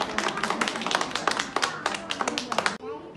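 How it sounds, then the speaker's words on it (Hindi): A group claps hands at a community health outreach gathering, producing close, fairly rhythmic crisp claps for nearly three seconds that stop abruptly, with voices mixed in. "ताली हम लोग बजाएंगे।"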